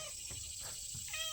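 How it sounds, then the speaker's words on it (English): A domestic cat meows in an indoor vegetable garden setting among pepper plants, with a few faint, drawn-out calls against a hissy background and no talk. "Of course, the cat hears me and has to come up here."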